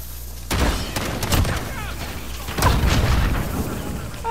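Gunfire from a Call of Duty: Modern Warfare match: two heavy shots or short bursts, each trailing into a rumbling decay over a steady background of game noise, with faint voices beneath.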